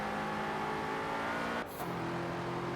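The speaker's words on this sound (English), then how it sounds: "I don't know if that's an engine swap or what, but it sounds good" BMW X6 engine in Forza Horizon 4, a steady sustained car engine drone close up that dips briefly mid-clip before resuming, heard alone without talk.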